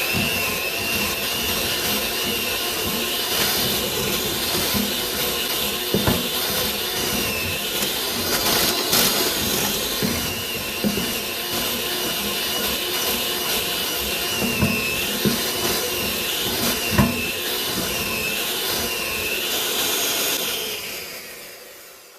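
An electric mixer churns alfajores cookie dough with a loud, steady motor whir and rattling scrape, running close and continuous for about twenty seconds before cutting off at the end, with no talking.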